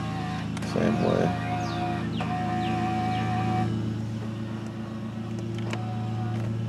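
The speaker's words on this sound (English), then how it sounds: "my next door neighbor's cutting the grass" A neighbour's lawn mower cuts grass nearby, its engine a steady, droning hum that runs throughout, with birds chirping over it.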